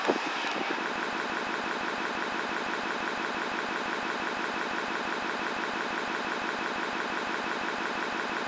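A 2002 Ford Expedition's 5.4 liter Triton V8 idles steadily after a brief start, giving an even, close, continuous engine drone with a regular pulse and no talking.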